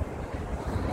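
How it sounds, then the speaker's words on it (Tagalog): Wind buffets a microphone outdoors on a Hong Kong mall rooftop at IFC, a steady low rumbling roar with gusty swells lasting throughout, with no voices. "Kaya mahangin na naman."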